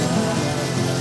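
Steady, even rain falls over a small town in Deadly Premonition, a dense hiss with no talk for about a second.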